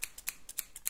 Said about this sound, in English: These are really good scissors. Really kind of precise.